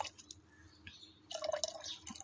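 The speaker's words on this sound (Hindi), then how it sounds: "इसको हम आधा गिलास लिक्विड इस वाले लिक्विड में ऐड कर देंगे" A half glass of liquid poured into another liquid, mixed as a homemade remedy against termites and fungus on potted plants, heard as soft close trickling and splashing after a few faint drips.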